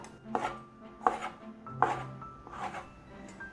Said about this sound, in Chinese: 把鲜香菇排整齐，切条